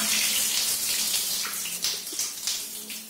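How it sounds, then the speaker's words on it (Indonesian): Water rushes out of a TOTO American Standard toilet tank as the flush valve is lifted on a faulty toilet that won't flush, a continuous close gushing that eases slightly toward the end. "Nah, itu airnya langsung kebuang."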